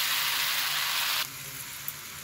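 Chicken masala spices and chili powder frying in a pan give a loud, bright sizzle that suddenly drops to a softer, steady simmering hiss as water is added.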